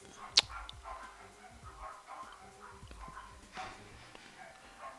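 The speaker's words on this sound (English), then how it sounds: "Every time I record, a dog's always barking." A dog barks in the distance behind the sounds of the Afro Samurai game, with scattered faint yips and barks over the low game noise and no talking.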